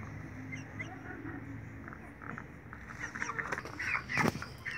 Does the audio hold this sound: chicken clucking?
yes